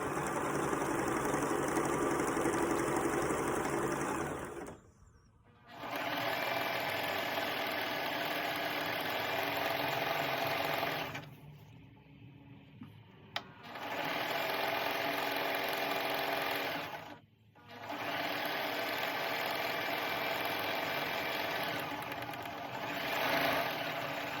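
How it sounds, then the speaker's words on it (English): A sewing machine stitches long quilt fabric strips together with a quarter-inch seam, running in steady whirring stretches separated by a few brief stops. "I'm going to start sewing my strips together down the long side with a 1/4 inch seam allowance"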